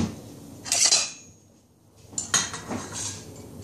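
Cutlery clinks and clatters as a knife is picked out from among utensils while preparing soft butter for French madeleine batter, a bright metallic burst near the start, a pause, then more rattling and handling noises.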